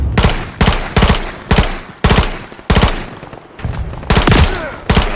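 Loud, close gunfire in the video game Call of Duty: Modern Warfare 3, with repeated sharp automatic bursts and single shots cracking in a steady rhythm through a snowy tundra battle.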